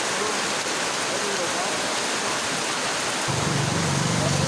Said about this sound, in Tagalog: Lakas ng ulan ngayon guys.